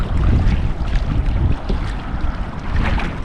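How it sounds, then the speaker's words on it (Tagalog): Strong monsoon wind buffets a small outrigger fishing boat at sea near a reef, a steady roaring rush with low rumbling water and hull noise throughout, loud and close, with no talking. "At parang nalakas ang hangin."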